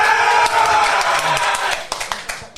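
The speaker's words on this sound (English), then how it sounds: "why are we cheering?" A small podcast audience cheers and claps, a dense wash of clapping and hollering that thins into a few separate claps toward the end.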